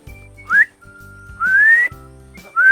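Three rising whistled notes from a person, clear and close, each sliding upward, with soft low hum in the gaps between them.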